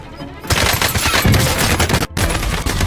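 Rapid automatic gunfire in a video game, dense loud bursts of shots rattling almost continuously with a brief gap near the end.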